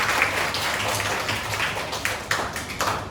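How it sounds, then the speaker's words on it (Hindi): A group of children claps for themselves, a short burst of close, lively applause with a few sharper individual claps standing out. "तालियां बजा दो पहले तो अपने लिए।"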